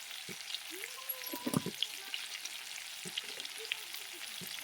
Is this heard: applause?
no